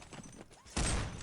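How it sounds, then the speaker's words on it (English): Pistol fire rings out in a competitive video game match: a short, loud burst of shots near the end of a brief stretch of quieter game audio. "And he is killed by Rafinha's pistol"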